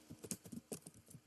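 Quick, light clicks of typing on a computer keyboard, a short irregular burst of keystrokes close by and fairly quiet.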